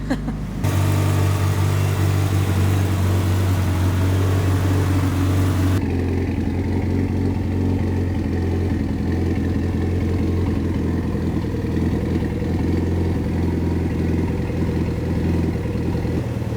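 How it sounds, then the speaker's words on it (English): A Mitsubishi Lancer Evolution IX idles steadily with a deep exhaust rumble, loud and close; a higher-pitched engine note drops away early, leaving a lower, even burble. "give you some more sweet sounds of the exhaust until then."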